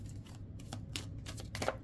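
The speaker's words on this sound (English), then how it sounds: "Two more shuffles." Tarot cards are shuffled during a card reading, a few quick riffling bursts and soft taps, close but quiet, with no talking during the shuffle.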